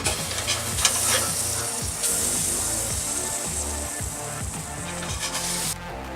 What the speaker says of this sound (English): Time to flip the kebabs over. So here you go. We are flipping the kebabs.